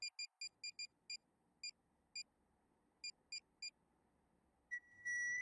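A phone rings with a string of quick, clear electronic beeps in uneven bursts, ending in a sustained higher tone.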